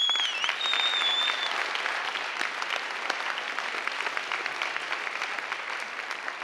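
Sustained audience applause at a legislative bill recognition event, dense and steady throughout with no talking over it.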